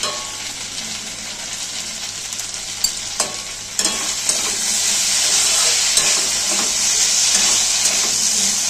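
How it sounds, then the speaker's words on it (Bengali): Potatoes with poppy seeds sautéing in a pan hiss and sizzle steadily, with scattered spatula scrapes and taps; the sizzle grows louder and denser in the second half, and there is no talking. "পোস্ত দিয়ে আলুটা ভালো করে কষিয়ে নিয়েছি"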